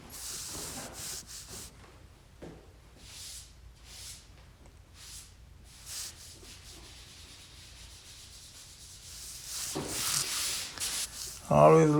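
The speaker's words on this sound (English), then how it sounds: "These sanding block give you a smooth texture." A sanding block scrubs drywall in repeated scratchy strokes, close and steady, growing louder and rougher near the end.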